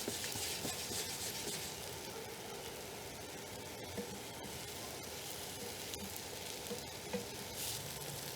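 Mushrooms and onions sizzling in a pan: a dense, continuous frying hiss, steady and fairly quiet, with occasional small pops and crackles and no talking.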